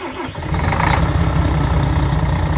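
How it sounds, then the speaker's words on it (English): A Volvo B13 coach's 13-litre diesel engine cranks briefly and fires up, settling into a loud, steady low rumble at close range. "getting it all sorted, and the engine starts."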